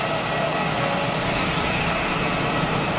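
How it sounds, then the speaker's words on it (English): An EasyJet airliner's engines at Geneva Airport give off a loud, steady broadband jet roar that holds evenly throughout, with no voices. "So that's the EasyJet that was right here. It's pushed back. Pushed back for taxi."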